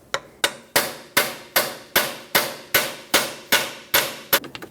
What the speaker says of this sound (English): usually I just like to give them a couple taps with a pry bar and a hammer